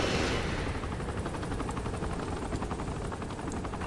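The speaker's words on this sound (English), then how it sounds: "Enemy helicopter!" Enemy helicopter in Saints Row: The Third, a dense continuous rotor-and-engine roar mixed with rapid gunfire crackle, loud and steady throughout with no speech over it.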